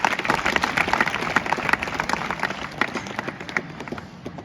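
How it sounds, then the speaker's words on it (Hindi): A crowd at a school alumni meet at JNV Sheopur claps loudly and steadily, a dense patter of many hands that holds through the whole stretch. "उसके लिए जोरदार ताली बजाओ।"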